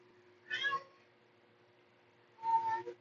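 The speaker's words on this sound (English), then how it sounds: "If you hear my cat meowing" Two soft cat meows two seconds apart, faint and close, against a quiet background with a low steady hum.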